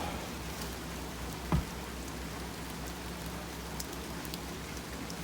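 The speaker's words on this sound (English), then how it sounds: "it is now raining out" Rain falling outside a workshop, a soft, steady, even patter heard from indoors, faint and continuous with one brief knock partway through and no talk.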